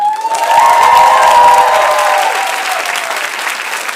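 Loud applause and cheering from a comedy club audience at a live stand-up show in Munich, a dense sustained roar of clapping with shouts on top that swells early and then slowly eases off.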